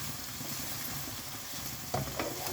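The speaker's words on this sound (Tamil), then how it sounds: "நல்லா வதங்கட்டும்" Ginger and garlic sautéing in a pan for a chicken kicap masala, a soft, fairly quiet sizzle with light stirring and a couple of sharper utensil knocks near the end.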